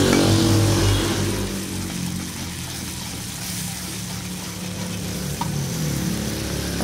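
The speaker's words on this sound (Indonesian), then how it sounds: "sekarang aku lagi numis bumbu balado frozennya ya" Frozen balado spice paste being sautéed in a pan, a steady close sizzle and crackle of frying that is loudest at first and then settles, with no voices.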